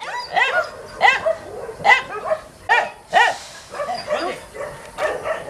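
Shepherd dogs at an animal shelter bark and yip in a close, steady run of sharp barks, roughly two per second, with whimpering yelps between them.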